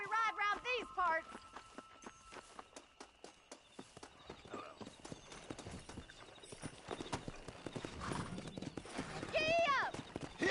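Horse hoofbeats in Red Dead Redemption, a steady rapid clip-clop of galloping hooves close by, with a horse's whinny at the start and near the end, under talk and game voices.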